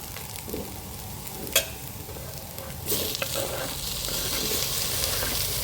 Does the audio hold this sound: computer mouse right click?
no